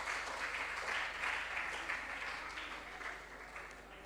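Applause from a group at a junior science and maths quiz, a steady patter of clapping that gradually fades toward the end, heard from a little distance.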